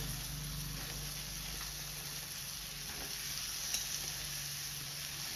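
Chili powder and vegetables sizzle in hot oil, a constant close hiss-and-crackle with a brief stir in the middle and no voices.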